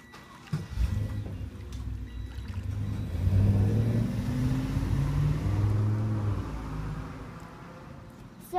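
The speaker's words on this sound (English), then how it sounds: "Sorry about that noise. That was the UPS truck." A UPS delivery truck rolls past outside, its low engine rumble swelling to a peak and then slowly fading as it drives away.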